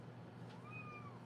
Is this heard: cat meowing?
yes